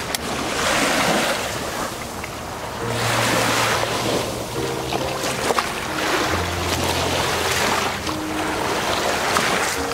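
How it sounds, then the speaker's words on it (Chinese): Heavy surf from a rough sea after a storm rolls onto a beach at low tide in loud, continuous surges. Strong wind buffets the microphone throughout. "走都走不动了，浪太大 了"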